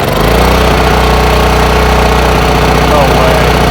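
A free Husky portable generator runs loud and close, its engine holding a steady, rough, rumbling drone throughout.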